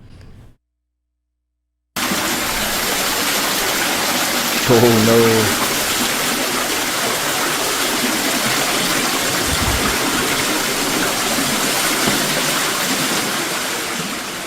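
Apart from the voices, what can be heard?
flood water flowing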